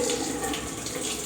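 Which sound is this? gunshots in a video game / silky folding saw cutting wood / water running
water running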